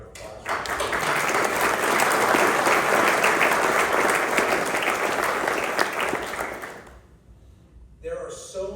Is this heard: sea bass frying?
no